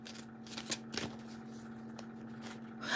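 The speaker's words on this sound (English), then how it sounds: "Sometimes when I talk, I'll just start shuffling" A deck of playing cards being shuffled up close, a quick riffle burst followed by softer scattered flicks and a louder riffle at the end, with no voices.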